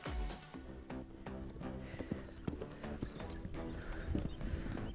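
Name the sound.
horse cantering, hooves clip-clop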